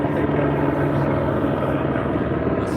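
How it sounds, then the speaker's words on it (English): A helicopter flies overhead at night in Las Vegas, heard from outdoors beside a fire pit. It makes a loud, steady rotor and engine roar that fills the whole stretch without letting up. "Got so much helicopter action already."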